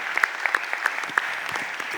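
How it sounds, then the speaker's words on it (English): A room at a Philadelphia city council budget hearing applauds the city's firefighters, steady moderate clapping from a group of people with a few sharper individual claps standing out, no talking over it. "I want to ask that we give them a round of applause"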